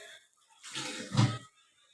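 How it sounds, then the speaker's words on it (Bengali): Water poured into a pan of fried fish roe kofta curry, a short splashing pour lasting about a second, close and fairly quiet. "এবার আমি এই অবস্থাতে জল তুলে দেব"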